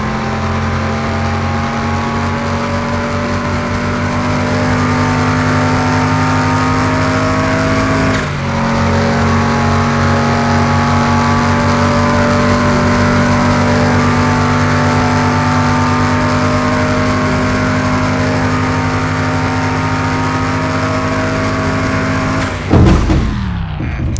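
A Range Rover Evoque in Car Mechanic Simulator 2021 accelerating hard down a track, its steady loud engine drone climbing through gear changes, with a sharp crash-like break near the end.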